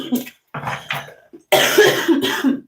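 Someone coughs up weed smoke in several close, harsh bursts, with a short pause and then a louder, longer raspy fit.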